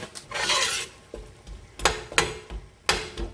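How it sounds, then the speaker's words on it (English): Pakistani rice pulao mixture stir-fried in a pot, with several sharp spoon scrapes and clanks against the metal over a soft sizzle, in uneven bursts. "I'm going to let this stir fry within the mixture for a minute or so."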